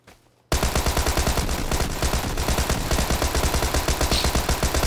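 Rapid automatic gunfire from a video game breaks out after a brief quiet moment, then continues as a loud, close, evenly paced stream of shots to the end.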